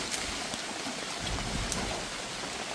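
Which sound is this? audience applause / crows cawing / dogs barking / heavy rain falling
heavy rain falling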